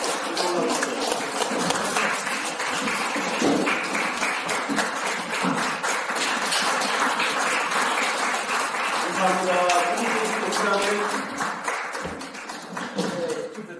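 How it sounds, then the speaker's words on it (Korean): A crowd at a founding general assembly of a Korean charitable association gives long, sustained applause to welcome people coming forward, dense clapping running throughout with voices mixed in beneath it. "자, 나오실 때 다 같이 힘찬 박수로 환영하겠습니다"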